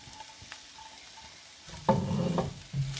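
Vegetables hit a hot pan and fry with a loud, steady sizzle that starts partway through, after a quieter stretch of background hiss, with a few stirring scrapes near the end.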